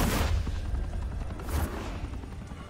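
Gunfire in Batman: The Telltale Series video game, a short burst of booming shots up front followed by another volley a second later, loud and close over a rumbling low background.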